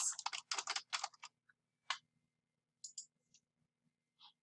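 Quick bursts of keystrokes on a computer keyboard while folders are being created in Google Drive, a dense flurry at first and then scattered single taps, close and fairly quiet with no talking.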